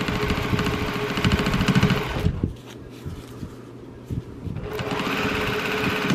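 A sewing machine quilting through a quilt block hums in a fast, even stitching rattle. It stops for about two seconds, leaving near silence, then starts up again at the same speed.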